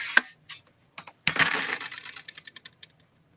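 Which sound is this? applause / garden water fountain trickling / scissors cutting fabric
scissors cutting fabric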